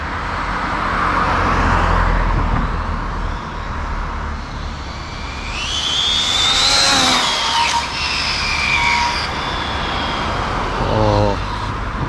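Busy main highway traffic, with cars passing on the road as a steady, loud roar and a rising, whining engine sweep in the middle, ending in a rapid low revving rattle.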